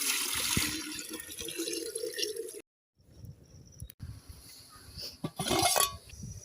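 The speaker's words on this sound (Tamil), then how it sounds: "பாயாசம் வைக்கிறதுக்கு ஃபஸ்ட்டு ஒரு பாத்திரத்தை வச்சு தண்ணியை ஊற்றிக்கலாம்." Water poured into a cooking pot for wheat rava payasam in a village kitchen, a splashing, running stream that stops, then resumes with clinks of the pot and trickles, fairly close.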